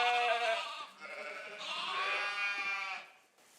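Ewes bleating loudly at close range, one long wavering bleat followed by overlapping calls that trail off, no voices present.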